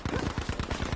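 Rapid automatic gunfire in the Battlefield V video game, a steady burst of close, loud shots in quick rhythm across the whole second.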